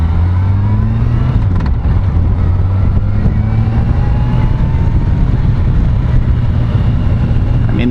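Yamaha FJR 1300 motorcycle engine on a warm-day test ride, a steady close drone whose pitch climbs and slides through gear changes, with constant wind rush and no talking.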